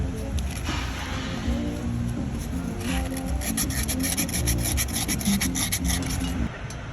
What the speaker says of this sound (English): Now right here we got a little bit of emery cloth, just to make sure that there's no burrs or anything sticking out